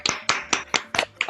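Sparse applause in an online meeting: six separate bursts of handclaps, spaced roughly a quarter second apart, close to the microphone and fairly crisp, with no talking.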